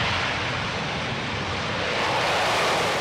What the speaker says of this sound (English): We have liftoff of the Falcon 9.